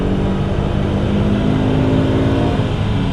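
A loud Fiat Coupe 20V Turbo engine held at high revs on a dyno, roaring steadily with a strong, constant drone and no pauses.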